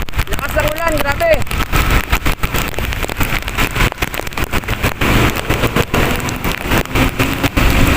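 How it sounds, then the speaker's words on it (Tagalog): Heavy rain pours steadily on a vehicle's roof during a ride through Batasan Hills, a dense continuous hiss with scattered drop impacts, close and loud throughout, with a brief voice near the start. "Lakas ng ulan, grabe"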